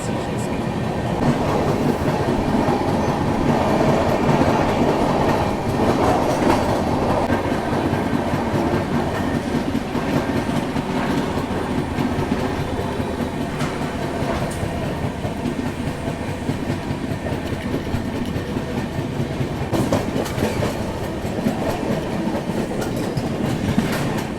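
The Vikramshila Express running at speed, heard from inside a 3rd AC coach: a loud, continuous rumble with rhythmic clickety-clack of wheels over rail joints throughout.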